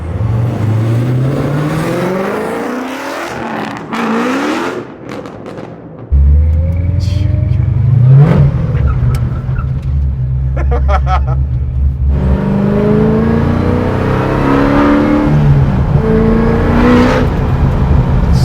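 An 800 HP supercharged 1969 Chevrolet Camaro widebody engine roars and revs hard, loud and close, its pitch climbing and falling through long runs of acceleration.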